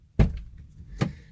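Two solid thuds of a 2011 Land Rover car door shutting, one sharp close slam followed about a second later by a lighter second thunk, nearby and otherwise quiet.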